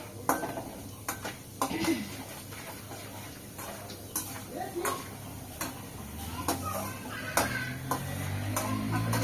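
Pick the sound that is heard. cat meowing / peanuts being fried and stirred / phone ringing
peanuts being fried and stirred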